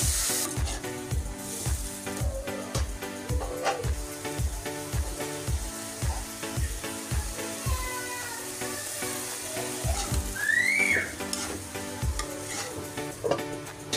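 Shrimp sizzle in a pan with onion, ginger, garlic and spices. Rhythmic stirring knocks and scrapes repeat through the hiss at first, then the frying carries on with a few scattered clinks and no voices.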